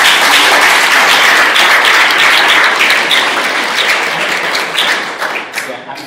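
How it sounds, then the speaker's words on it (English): Sustained audience applause fills a hall at an awards gala in Amsterdam, steady and dense throughout before thinning slightly toward the end. "So give a round of applause."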